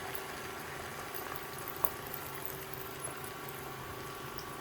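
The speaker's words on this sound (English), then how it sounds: "The oil is all heated up, so I'm going to add the" Egg mixture sizzles in heated oil in a pan, a steady broadband hiss and crackle that holds evenly throughout with a few small pops, close and moderately loud, no talking.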